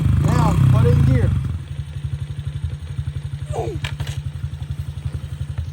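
A Honda CRF 50 dirt bike engine putters at a close, steady low idle with an even rapid thumping beat, while someone speaks over the first second.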